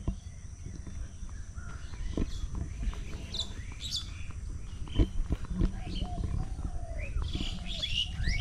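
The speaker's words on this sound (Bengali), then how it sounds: "আমরা একটু পাখির কলকাকলি শুনি সকালবেলা, এর জন্য একটু কথা বলা বন্ধ রাখি।" Morning birdsong rings from a large tree in a Bangladeshi village: scattered high chirps and tweets near and far, over a steady background hum with faint voices.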